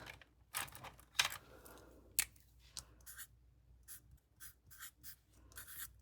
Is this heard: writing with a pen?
yes